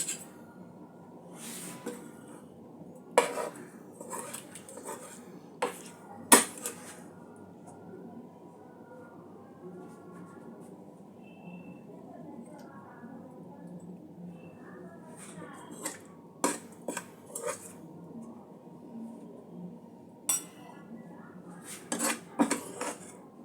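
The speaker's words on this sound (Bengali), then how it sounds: "এবার আমি এটা পাত্রে ঢেলে নিচ্ছি।" A serving spoon clinks and scrapes against metal pots as tilapia fish curry with poppy-seed paste is transferred into a serving pot, with sharp, irregular clatters scattered over a low, steady background.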